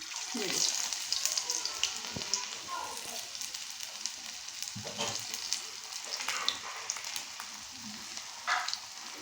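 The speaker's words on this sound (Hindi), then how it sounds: "घी हमारा अच्छी तरह से गर्म हो चुका है। अब हम इसमें डालते हैं अपनी टिक्कियाँ।" Egg tikkis (anda tikki) frying in hot ghee in a small frying pan, a continuous crackling sizzle with bright spatters and occasional stirring or utensil sounds, close up and steady throughout.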